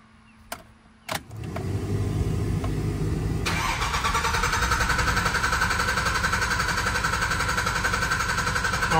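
A Cummins diesel engine with air in its loosened delivery lines cranks briefly in a few loud jolts, then catches and settles into a steady, close, loud rumbling idle.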